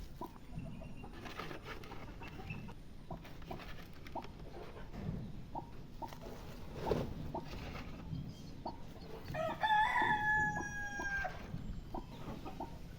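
Free-range village hens cluck repeatedly at a nesting spot where eggs are being set under a brooding hen, and a rooster crows loudly partway through, over a low background of rustling and farmyard noise.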